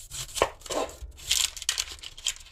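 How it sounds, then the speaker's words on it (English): Knife chopping onion on a board while cooking Cajun turkey pasta, a few sharp irregular cuts close by with brief pauses between strokes. "you need to chop it up. Onion, by far the messiest part."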